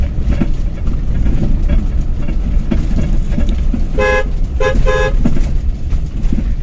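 A Maruti Zen under restoration gives an irritating noise while driving: a steady road and engine rumble, with several short tonal toots bunched near the end.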